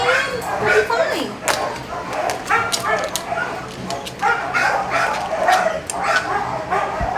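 Beagle dog whimpering and giving short yips and barks at close range, the excited sounds scattered irregularly under and between bits of human voice.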